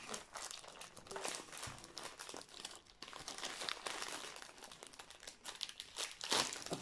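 Yellow packing tape is peeled off a parcel holding a diamond painting kit, close and quiet, with continuous crinkling, crackling and brief tearing bursts that swell near the end, and no talking.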